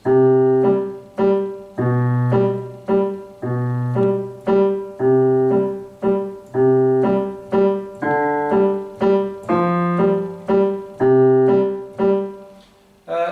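Steady piano notes in a low register, one octave below middle C, played one after another in an even beat with a few chords mixed in, with no talking; left-hand bass part of La Donna e mobile.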